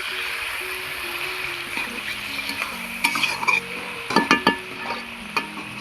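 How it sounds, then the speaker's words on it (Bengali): Masala of red Kashmiri chilli powder and spices cooking in a pan with a splash of water for a pangas fish curry with yam, steady close sizzle with a burst of spatula scrapes and clatters toward the end. "এবার আমি একটু আমি একটু মশলাটা কষানোর জন্য একটু জল দিয়ে দেব"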